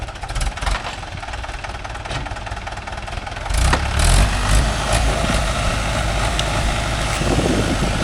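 A Mahindra 575 DI tractor engine chugs steadily close by in farmland, then revs harder partway through into a louder, rougher pull with a deep rumble while working a 9-tine cultivator.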